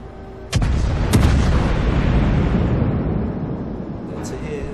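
Naval guns of the Cleveland cruiser in World of Warships fire in two loud, booming salvos, the second about half a second after the first, then trail into a long rumbling tail.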